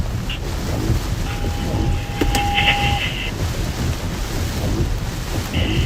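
Steady rain and gusting wind of a severe Florida thunderstorm wash through as a continuous broadband roar, with a couple of faint tonal blips and no clear thunder.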